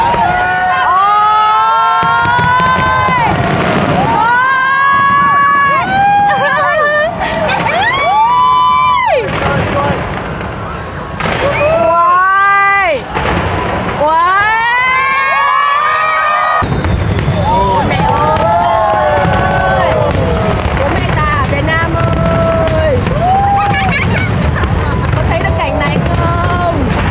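A Christmas-season fireworks display in Sydney booms loudly throughout while a large crowd cheers, shouts and whoops continuously over the blasts.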